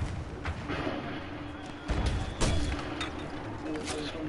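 Rapid gunfire and explosive booms in the video game Battlefield 1, a dense run of muffled shots with heavier blasts midway, heard over game background noise.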